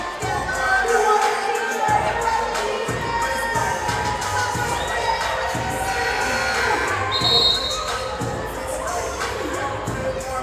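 Crowd noise fills the gym at a pro basketball game between the San Diego Sharks and Jersey Shore Breaks in Belmar, New Jersey: a constant murmur of chatter, children's shouts and occasional cheers, with a voice talking over the steady din.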